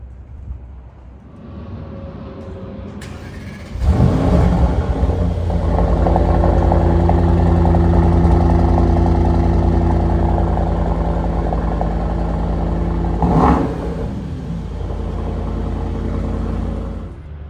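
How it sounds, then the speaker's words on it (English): A car engine cold-starts with a brief crank, then catches into a loud, rough rumbling idle that holds steady, swells with a short rev partway through, and settles back to a strong idle, close up with no talking. "But I'll do a cold start."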